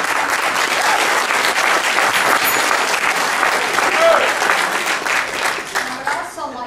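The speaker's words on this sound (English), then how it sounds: "Would you stand up for applause here?" Sustained audience applause fills a room at a Libertarian presidential candidates forum, dense and steady throughout with no clear talk over it.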